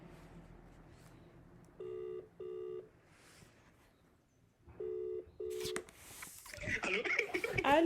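A telephone call waiting to connect: two pairs of steady electronic ringback tones with pauses between them, fairly clear, followed by rustling and handling noise as the line picks up.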